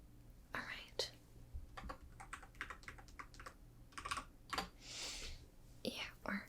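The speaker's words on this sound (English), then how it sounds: "our keyboards are detachable because when you're sleeping, we like to record things and just not have to deal with bringing over an entire laptop." Soft, close typing on a detachable Bluetooth keyboard in a quiet ASMR setting, irregular clusters of gentle key taps with brief pauses, alongside faint whispering.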